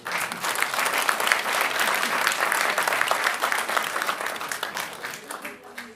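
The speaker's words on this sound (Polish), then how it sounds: "Bo także dla pani Krysi należą się również brawa." An audience at a ceremonial town council session in Zambrów applauds a woman being honoured. The clapping is lively and sustained for several seconds, then gradually tapers off.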